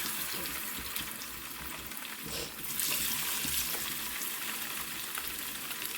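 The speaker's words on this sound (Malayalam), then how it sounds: "ഗ്യാപ്പിൽ നമുക്ക് കുറച്ച് മീൻ പൊരിക്കാം" Fish fries in hot oil in a home kitchen, a dense, steady close sizzle crackling continuously throughout with no talk.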